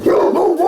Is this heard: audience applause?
no